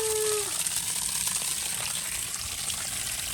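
Dirty water gushing steadily from a blown-out water line, a continuous rushing wash with a faint tone at the start.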